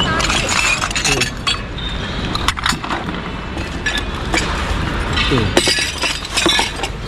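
Glass plates and other glassware clinking and knocking together as they are handled in a dumpster at night, with several sharp clinks and breaking-glass hits over a steady rustling background.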